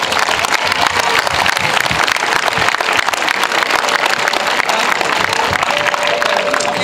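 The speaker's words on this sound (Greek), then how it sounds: "Περιμένει το χειροκρότημά σας." Sustained applause from an audience at a 2024 para athletics awards ceremony, steady clapping from many hands through the whole stretch, with faint crowd murmur beneath and a brief tone near the end.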